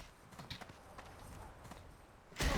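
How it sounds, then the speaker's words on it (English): Horse hooves clip-clop in World of Warcraft Classic as a mount trots through the Desolace zone, a steady rhythm of moderate, near steps, with a louder burst of sound at the very end. "I got on my horse."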